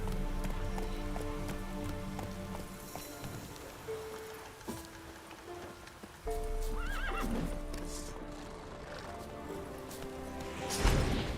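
Roach, the horse in The Witcher 3: Wild Hunt, gallops with continuous rhythmic hoofbeats under a droning musical score and rain-like patter, with a whinny near the middle and a louder snort close to the end.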